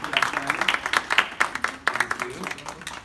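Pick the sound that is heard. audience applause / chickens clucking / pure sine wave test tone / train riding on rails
audience applause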